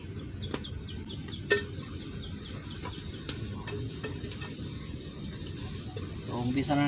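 Garlic, onion, tomato and meat sautéing in a pan for ginisang monggo, a steady sizzle under occasional spoon clinks and scrapes, with faint chatter and background noise of a home kitchen.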